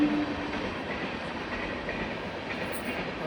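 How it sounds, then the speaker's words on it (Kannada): A train rolls past nearby, a steady rumbling clatter that continues evenly throughout with no voices. "ಟ್ರೈನ್"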